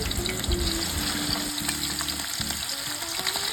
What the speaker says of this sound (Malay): Setelah minyak panas, kita goreng udang.